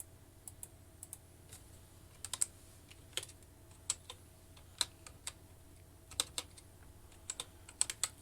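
Typing on a computer keyboard during 3D animation work, producing quiet close irregular key clicks, sometimes in quick pairs and runs, over a low steady hum, with no speech.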